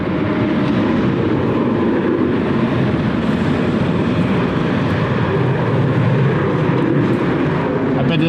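A fixed-wing airliner landing in a crosswind at Cleveland Hopkins airport, a loud continuous engine roar and rumble heard steadily throughout, with no talking.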